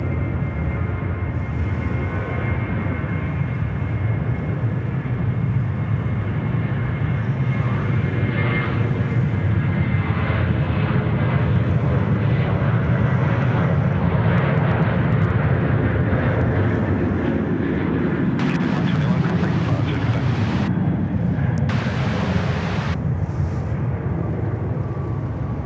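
A Qantas passenger jet arriving from Los Angeles at Sydney Airport, its engines roaring loud and sustained as it passes, a broad jet rumble that swells and fades over about twenty-five seconds.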